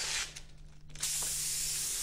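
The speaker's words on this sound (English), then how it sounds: "I'm spraying pearl black, using my black as a base coat" A spray gun hisses as pearl black base coat paint is sprayed onto a panel, a steady airy spray in bursts with a short pause, then one continuous close pass.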